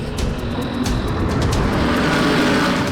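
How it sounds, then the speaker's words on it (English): DTM race cars roar during a testing session at the Lausitzring circuit, a loud continuous engine rush with passing whooshes and rising pitch as cars sweep by close, with no voices. "Testing continues, engines roar"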